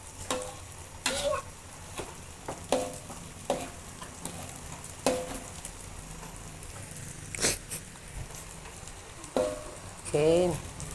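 A spatula stirs seblak with egg in a frying pan, giving repeated scraping strokes every second or so over a soft sizzle, while someone speaks in between.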